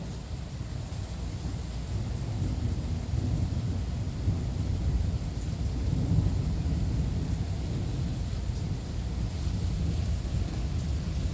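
Thunder from a severe summer thunderstorm in La Porte, Indiana: a deep, steady, loud rumble that rolls on without a break, mixed with wind buffeting the microphone.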